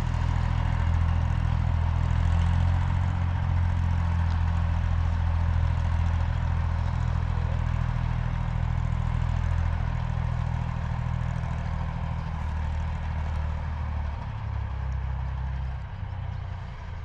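Ursus C 3603P tractor engine running steadily in a field while spraying barley, a loud, continuous low drone with little change.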